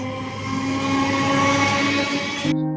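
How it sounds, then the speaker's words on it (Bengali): A train pulling away from a station, a steady rumbling drone with tonal whine and a horn-like hum, cutting off abruptly at the end. "ট্রেন ছেড়ে দিয়েছে"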